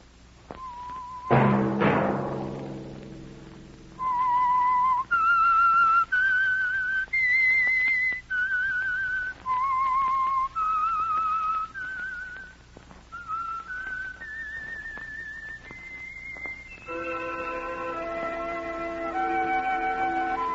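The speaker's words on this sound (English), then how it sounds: "Let that whistle be your signal for the Signal Oil program, The Whistler" A lone whistler carries the eerie signature theme of the Signal Oil radio mystery program, the notes held and sliding clearly and tunefully, set over a faint orchestral bed that swells into sustained chords at the close.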